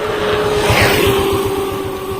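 A motorbike engine drones steadily and loudly on a road, with a low pulsing rumble and a steady whine that swell slightly as it goes by.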